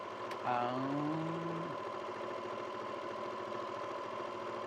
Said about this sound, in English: So you're stitching about 1/4 inch away.